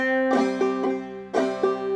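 Clawhammer banjo plays a simplified Darling Corey phrase without drop thumb, bright plucked notes over a ringing drone string in two similar strummed groups, close and alone.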